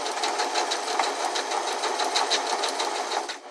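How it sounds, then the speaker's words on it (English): A sewing machine stitches fabric and elastic in a straight line, giving a fast, even, rhythmic whir that stays close and loud throughout with no voices. "This is a straight point and you just want to sew it down."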